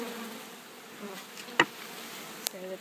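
Honeybees from a shipped package are shaken into a top-bar hive. Faint, scattered buzzing of individual bees passes close by over a quiet background, with a couple of sharp brief knocks.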